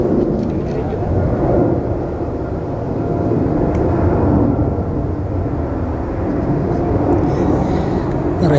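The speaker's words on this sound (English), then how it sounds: "Wretched planes are flying again." Airplanes flying overhead during an outdoor bonsai yew tree photo shoot: a steady, broad rumble that fills the whole stretch, with people talking over it.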